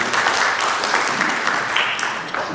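An audience claps steadily and fairly loudly throughout at a book release event in Aligarh, a dense continuous patter of many hands with no voices over it.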